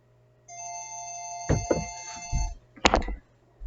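A phone alarm tone rings out with steady layered electronic notes for about two seconds, broken by several sharp knocks and thumps as the phone is handled before it falls silent.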